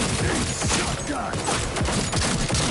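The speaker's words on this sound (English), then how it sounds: "Using a shotgun!" Shotgun blasts and gunfire ring out in a close, loud firefight in the Cyberpunk 2077 Phantom Liberty video game, dense and continuous with overlapping booms and clatter.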